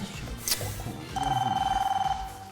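An old landline telephone rings indoors with a sustained trilling electronic bell that starts after a brief knock, loud and close, with no talk over it.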